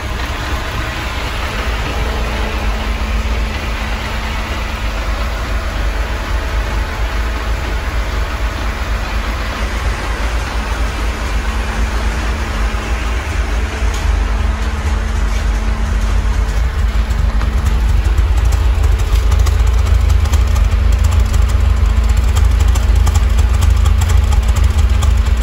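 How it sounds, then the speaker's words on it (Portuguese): Chery Tiggo car engine idling after a throttle body cleaning, a steady even low hum with a constant tone running smoothly for about twenty-five seconds, no voices. "o motor do carro tá muito mais retinho"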